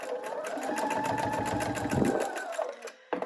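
Sewing machine running steadily while chain piecing quilt pieces for a Kimberbell Cuties quilt project, a continuous rapid needle rhythm up close that slows and stops near the end.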